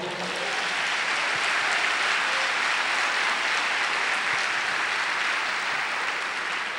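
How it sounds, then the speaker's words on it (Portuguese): Sustained applause from a church congregation at a Portuguese-language worship service, dense and steady throughout without pause. "Levante um aplauso para o Senhor"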